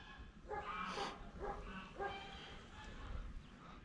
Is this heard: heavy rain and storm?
no